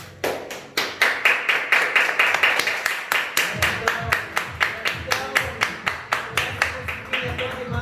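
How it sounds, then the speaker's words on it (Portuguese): Rhythmic, evenly paced clapping from a gathering honouring two men at an evangelical political programme, steady, close and sustained over a low rolling undertone. "Com esses aplausos para esses dois homens de Deus"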